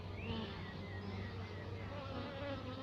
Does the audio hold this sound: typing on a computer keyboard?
no